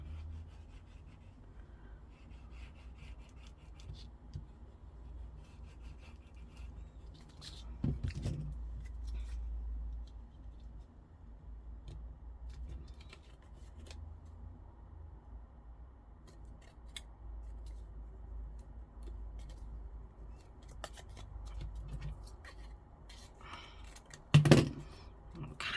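Scissors cut scrap card for a junk journal: faint, soft snips and rustling at close range in a quiet room, with a louder knock of handling near the end.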